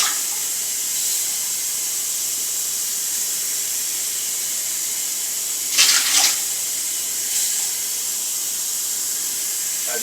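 Tap water runs in a steady hissing stream into coffee cups, filling them for an old-fashioned beef stew, with a brief louder splash near the middle and a smaller one later.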